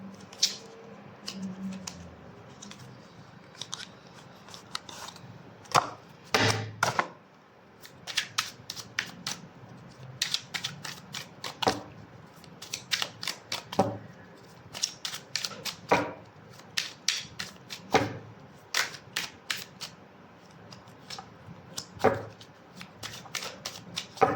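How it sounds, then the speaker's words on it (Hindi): Tarot cards being shuffled by hand, a steady run of crisp riffling and flicking bursts, close and fairly loud, with brief pauses between shuffles and no talking. "ये मैं रोज़ क्यों कार्ड घुमा देती हूँ, कुछ नहीं रहता मेरे हाथ में"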